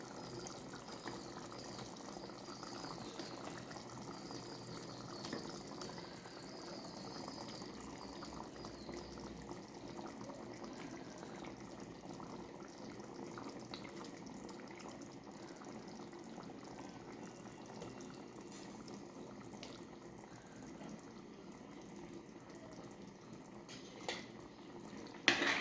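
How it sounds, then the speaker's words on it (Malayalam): Liquid boils in a pot for Kerala fish curry, giving a quiet, continuous bubbling hiss that stays even throughout, heard alone before a brief knock at the very end. "ഇനി ഇത് തിളച്ചിട്ട് വേണം മീനിട്ട് കൊടുക്കാൻ. തിളച്ച് വന്നിട്ടുണ്ട്."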